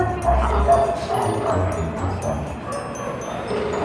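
A dog barks and yips somewhere in the background, partly buried under a steady mix of room noise and faint voices, short repeated calls over about four seconds.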